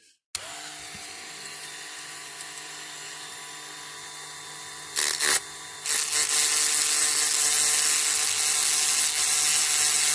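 A rotary tool fitted with a harsh burr grinds a 1956–63 Dinky Toys Bristol 450 die-cast model, a loud, steady high-pitched whine that holds for several seconds, briefly surges, then settles into a harsher, heavier grinding tone.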